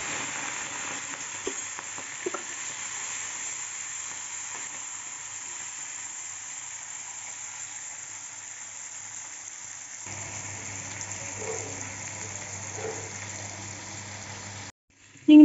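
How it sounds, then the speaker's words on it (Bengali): Prawns fry in hot mustard oil in a kadai, a steady, close hiss of sizzling that holds evenly for about fifteen seconds and cuts off abruptly near the end. "তেলটা গরম হয়ে গেছে। এখন চিংড়ি মাছটা ভেজে নিচ্ছি।"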